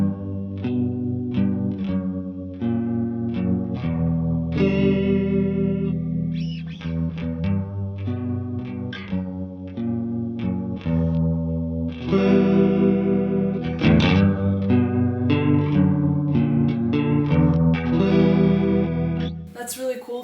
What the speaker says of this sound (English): let's start with the rotary chorus. That's basically the Leslie rotating speaker, and it's an emulation of that sound